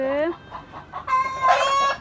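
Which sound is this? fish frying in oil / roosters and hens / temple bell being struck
roosters and hens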